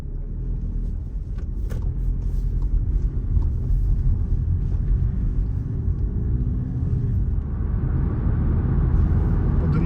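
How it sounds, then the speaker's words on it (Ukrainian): Skoda Octavia A7 heard from inside while driving and accelerating, a steady low engine and road rumble with a gently rising tone, continuous and fairly loud with no talking. "автомобіль гарно набирає швидкість"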